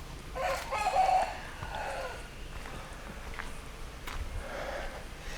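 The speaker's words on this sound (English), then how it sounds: "Still got a lot of chickens, but chickens everywhere." Chickens clucking and calling nearby in Yiwu Old Town, Yunnan, with a rooster-like crow rising early on, over a quiet outdoor background.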